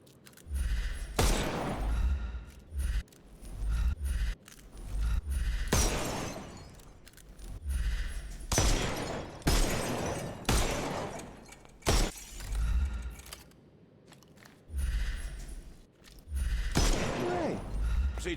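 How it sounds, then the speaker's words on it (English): Gunfire in the video game Sherlock Holmes Chapter One comes as several loud, sharp bursts of shots separated by short pauses, with a voice talking faintly in between. "I didn't know they were shooting in this game"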